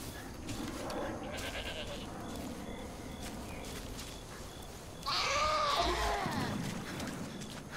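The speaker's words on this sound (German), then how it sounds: "Hallo, du Ziege." A goat in the Far Cry 5 video game bleats in a few short calls over low ambient game sound, with a louder, wavering bleat near the end and a voice talking in the background.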